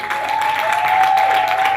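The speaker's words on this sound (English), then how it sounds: "Ladies and gentlemen, please put your hands together for Iboko Akiola." Audience applause at a 2022 conference as a speaker is welcomed, a steady, dense wash of clapping from a large crowd, with a faint sustained tone running underneath.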